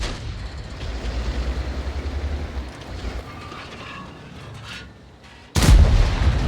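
SU-130PM tank destroyer in a video game firing a standard AP round, with a low rumbling engine drone giving way to a single sharp, heavy cannon blast near the end, loud and close.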